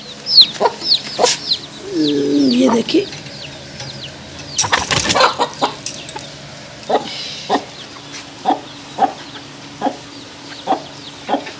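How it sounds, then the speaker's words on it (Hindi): Domestic chickens cluck in short, repeated bursts close by while being fed grain, with a sharp clattering rustle partway through and someone speaking briefly. "तो मुर्गियों को मैं और दाना डाल दूँ थोड़ा सा।"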